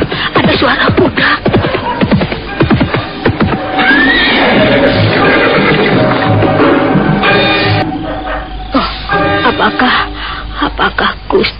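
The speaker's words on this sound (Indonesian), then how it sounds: "kok sepertinya ada suara kuda menuju kemari" A horse neighs amid a busy, layered drama soundtrack, with people talking and other noise around it throughout.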